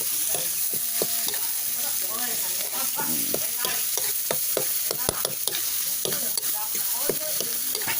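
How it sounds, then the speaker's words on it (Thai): Large freshwater clams are stir-fried in a hot wok over fierce flame, a loud continuous sizzle broken by frequent clacking shell and spatula strikes, close and busy, with no talking. "ไฟมันแรงเนาะ ไฟนะครับโอ้โหไฟลุกเลยนะครับ ใส่หอยลงไปเลยนะครับ"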